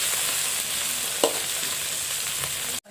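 Tomatoes, onion and green chillies frying in a mustard and cumin tempering for a bitter gourd curry, a loud continuous close sizzle with a couple of sharp stirring knocks before it cuts off abruptly.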